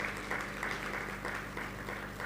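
Audience applause at an awards ceremony in Nigeria, a steady mass of clapping from a crowd that holds evenly for a couple of seconds, loud and close.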